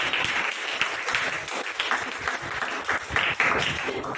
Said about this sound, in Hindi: फिर दोनों रो ताली बजाना है शकना।